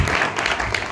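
An audience at a school Guru Purnima program claps in a dense, continuous burst of applause, loud and close, filling the whole moment.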